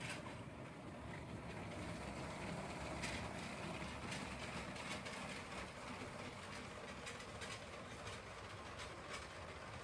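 A LEGO Union Pacific model train runs steadily along an elevated track layout, giving a continuous close rumble with faint rhythmic clicking of wheels over track joints throughout.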